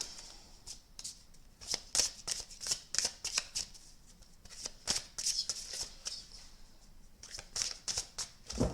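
Playing cards shuffled repeatedly in a riffle-like rhythm, a steady series of crisp, close fluttering bursts with brief pauses between them.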